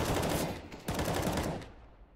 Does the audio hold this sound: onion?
no